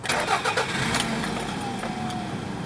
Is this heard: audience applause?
no